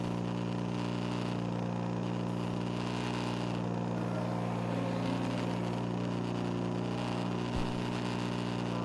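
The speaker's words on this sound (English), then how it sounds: "I can't make it out for the engine noise" A race car engine drones loudly and continuously from inside the car during an endurance race at VIR, a steady buzzing roar with faint fluctuations and no talk.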